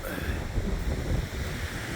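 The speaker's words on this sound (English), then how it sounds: "but it is just too windy" Strong wind on an exposed coast at Crisp Point Lighthouse in November buffets the microphone in a constant low roar and rumble, with no voices.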